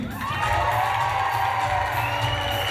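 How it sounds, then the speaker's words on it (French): An awards-night crowd greets Monsieur Sweeney, named teacher of the year, with a continuous roar of cheering and shouting voices, children among them, that holds steady and loud throughout. "Sous vos applaudissements, mesdames et messieurs, Monsieur Sweeney, enseignant de l'année"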